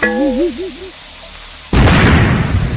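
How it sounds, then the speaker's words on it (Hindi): A wavering whistling tone fades, then a Diwali firecracker bursts loudly and close, trailing off in a crackling rumble. "ये दिवाली का पटाखा है। ये बहुत तेज आवाज करता है।"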